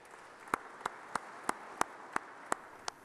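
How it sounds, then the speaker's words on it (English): A crowd applauds at the acceptance ceremony for the naval ship NUSHIP Canberra, a soft, steady bed of clapping pierced by one sharp, close clap roughly every third of a second. "Please give yourself a round of applause."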